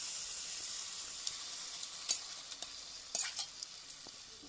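Marinated chicken for an oil-free dahi chicken curry sizzles in a pan, a soft high hiss broken by several sharp pops and crackles, close and without talk.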